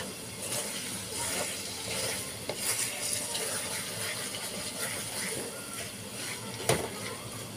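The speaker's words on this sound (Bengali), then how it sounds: "এরকম বারবার নেড়ে দিতে হবে" Dried chepa shutki fish and jackfruit seed mash frying in oil in a pan while a spoon stirs and scrapes it repeatedly, with soft sizzling, occasional clinks of utensil on metal and a sharp knock near the end.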